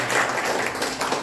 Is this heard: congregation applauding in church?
yes